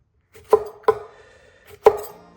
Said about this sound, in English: Let's go ahead and get these chilies nice and cut.